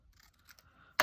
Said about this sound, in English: We're going to take our scissors, cut maybe 1/4 inch off